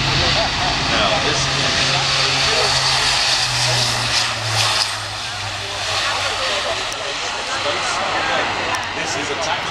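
An Airbus A400M turboprop military transport makes a tactical departure at an air show, its engines roaring loud and steady with a droning whine while a commentator talks over it.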